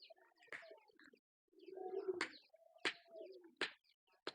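Pigeons coo softly in a loft, with low throaty calls and a few sharp chirps and flaps, faint and close, with no talk.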